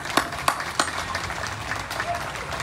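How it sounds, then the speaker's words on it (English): Applause from an audience at a National Day of Prayer gathering in Tallahassee, with a few sharp claps standing out at the start and then a steady patter of clapping running through the clip. "Can we just give a round of applause?"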